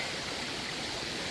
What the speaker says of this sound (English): had to cross the little creek